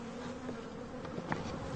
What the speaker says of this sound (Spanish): Las abejas transportadas desde el norte se aclimatan volando.